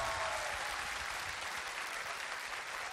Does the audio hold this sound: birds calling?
no